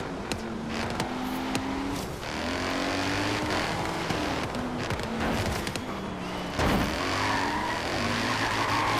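BMW sDrive35is racing around a long track in a video game, with a steady engine drone that rises and falls in pitch through gear changes, overlaid with tire squeal and a brief louder burst near the end.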